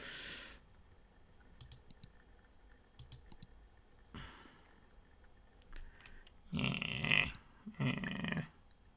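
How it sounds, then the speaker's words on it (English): Keys clatter on a computer keyboard, scattered clicks at first, then close, loud bursts of rapid mashing typing. "I hope my microphone is close to my keyboard that you're actually hearing me just like really mash away here"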